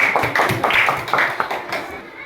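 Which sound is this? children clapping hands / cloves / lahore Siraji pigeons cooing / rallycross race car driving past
children clapping hands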